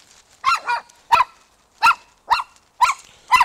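Pomeranian dog barking repeatedly in a reactive outburst, six sharp, high-pitched barks in an irregular rhythm, close and loud with brief silences between.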